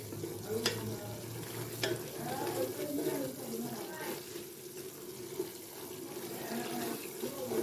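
Aloo matar gravy with yogurt and spices sizzles and bubbles in a pan while being stirred, a steady close frying hiss with a few sharp scrape clicks of the spoon.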